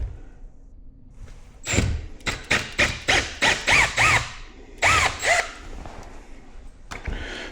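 Impact driver hammering in a rapid string of loud close bursts, then two more, while backing drywall screws out of a wall before a TV mount install.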